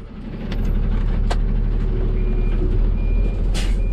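A truck maneuvering around a large pothole on a rough road in northern Minas Gerais, its engine rumbling steadily and close, with a sharp air brake hiss and faint intermittent reversing beeps.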